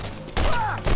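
Gunfire in the video game Borderlands Remastered, two close, loud shots about half a second apart, each a brief thump that trails into a ringing tail, with no talking.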